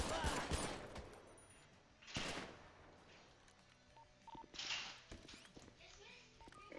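Gunshots in the video game GTA V come as scattered sharp cracks, a couple of louder bursts among quieter pops and beeps from the game, with no speech during the shots.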